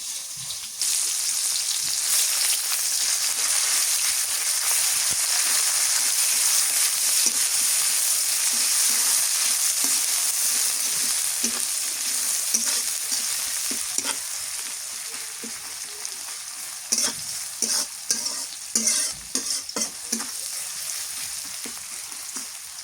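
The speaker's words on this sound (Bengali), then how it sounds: "আদা রসুন জিরা বাটা পেঁয়াজটা সুন্দর করে ভাজে" Chopped onions frying in oil with black cumin and whole cumin seeds, a bright continuous sizzle and crackle, later punctuated by spatula scrapes and taps as they are stirred, close and with no speech.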